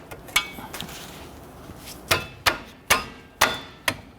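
A metal tool knocks against a drum brake shoe spring on a 1992-1996 Toyota Camry, giving sharp metallic taps. Two early knocks are followed by a run of five evenly spaced clanks, close and crisp.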